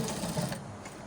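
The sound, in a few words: sewing machine back stitching welt pocket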